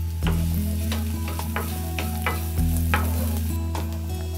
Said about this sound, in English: Some onions, and chopped garlic. Saute it until soft